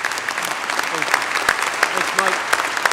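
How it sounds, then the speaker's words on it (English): An audience at a spring commencement ceremony applauds steadily, dense clapping filling a large hall, with some voices mixed in. "let's give them another round of applause for their public service."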